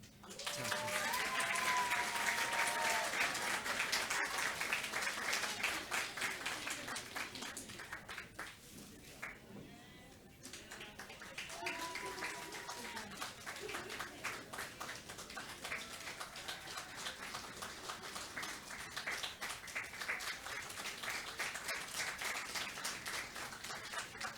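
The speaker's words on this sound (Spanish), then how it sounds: "recibimos con un fuerte aplauso" Sustained applause from an audience at a New Year church service, a steady dense clatter of clapping that dips briefly, then carries on, with faint voices beneath.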